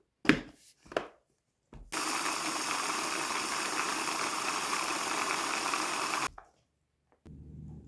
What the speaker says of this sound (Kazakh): Блендерге салып ұнтақтап аламыз.